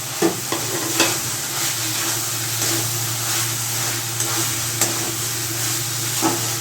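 White mustard paste hitting a hot pan of bitter gourd and potato curry, a steady close sizzle and bubbling with occasional soft clicks of stirring.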